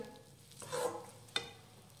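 A spice paste is sautéed and stirred in a pan. There is a soft sizzle, with a brief scraping stir and a sharp clink of the utensil against the pan, faint and close.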